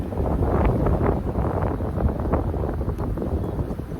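Strong wind buffeting the microphone at an open beehive during a queen-cell check, a loud continuous low rumble with gusty swells throughout the few seconds.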